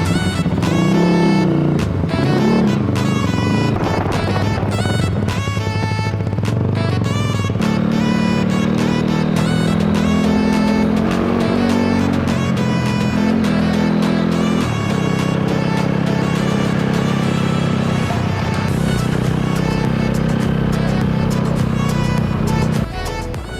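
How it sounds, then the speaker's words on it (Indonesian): A loud modified motorcycle engine revs and drones continuously, pitch rising and holding in steps, up close and without speech. "Ya itu tadi, motor modifikasi Betawi asli, Betawi punya gaya."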